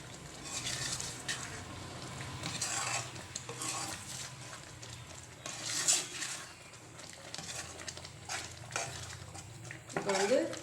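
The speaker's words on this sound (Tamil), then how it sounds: "நல்லா ஃபுல்லாக கிண்டி விடணும்." A spoon stirs a sweet mung dal and semolina mixture in a pan, scraping and clattering close by with a faint sizzle underneath and brief bursts of louder scraping.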